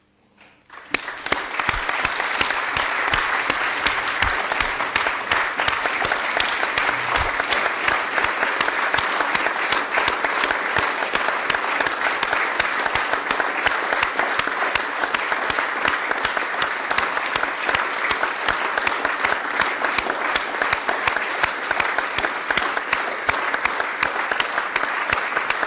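A council meeting audience applauds steadily for nearly the whole stretch, a dense, sustained clapping that starts abruptly and holds at an even, fairly loud level without voices rising above it.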